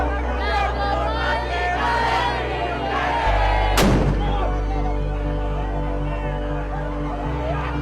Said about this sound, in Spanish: Se comienzan a dar los primeros disparos de gases lacrimógenos.